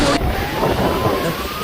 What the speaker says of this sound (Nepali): पोखरामा त लास्टै हावाहुरी चलिरहेको छ होइन